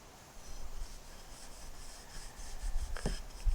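A cloth rubbing stain into reclaimed wood gives a soft, continuous scrubbing and brushing sound at close range, low in volume, with a slight knock near the end and no voices.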